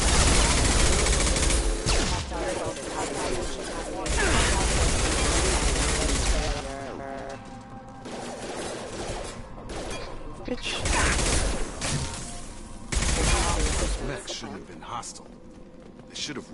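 Sci-fi firefight against Fenris security mechs in Mass Effect 2: dense, continuous volleys of gunfire crackle in overlapping bursts with brief lulls, and voices talk over the shooting throughout.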